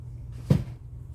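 A cupboard door shuts once with a single soft thump, close by and alone after resin-crafting supplies are stowed below, with faint room noise around it.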